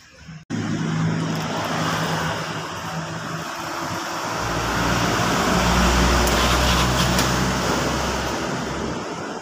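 A Honda Vario scooter with a faulty starter cranks and catches right as the ignition key is turned, then idles steadily nearby with a continuous engine hum, swelling slightly partway through.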